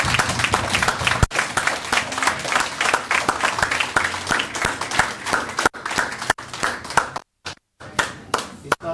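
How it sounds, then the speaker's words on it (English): Warm, sustained applause from a banquet audience honoring a guest, dense clapping that runs for several seconds before thinning out and breaking into scattered final claps. "Give this man a warm round of applause"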